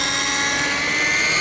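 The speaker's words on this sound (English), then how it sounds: "going to demonstrate the power of an electric helicopter. 50 volts, 12 pounds." A large electric RC helicopter running on 50 volts and weighing 12 pounds spins up for takeoff, giving a steady, loud, close whine of rotor and motor noise with no talking.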